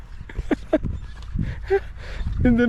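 A goat bleats a few times at a farm attraction with pig statues, the short wavering cries coming close and fairly loud while someone talks over and between them.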